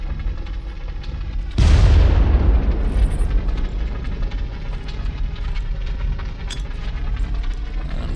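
A grenade detonates in the Far Cry video game with a sudden loud boom at about 1.6 seconds, followed by a long rumbling decay that fades into steady ambient noise.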